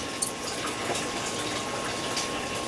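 Water starts rushing through a hose during a manual aquarium water change into a rolling trash can, a continuous close gushing and hissing flow that stays steady throughout, with no voices.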